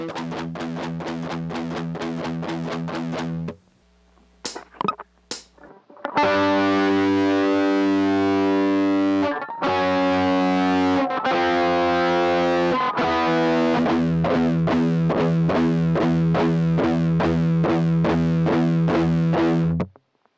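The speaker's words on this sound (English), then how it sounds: "Here is the intro, verse, and chorus played at full speed, which is 138 beats per minute, or BPM." Distorted electric guitar chugs through a riff at full speed, 138 BPM, with tight palm-muted repeated notes, a brief gap with a few stray plucks, then loud sustained power chords and driving riffing to the end.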